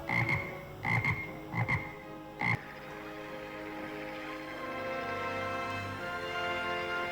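A toad croaks in a few short, close bursts, then a continuous chorus of trilling calls carries on steadily.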